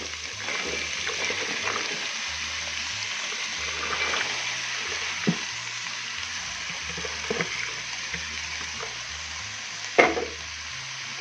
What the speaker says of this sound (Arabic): وهننزل بقى بالخضار ونشوحه